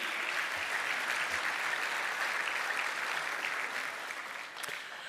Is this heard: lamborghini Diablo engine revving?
no